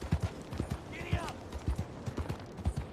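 Horse hooves clip-clop in a quick galloping rhythm in Red Dead Redemption 2, with game voices talking over the steady beat.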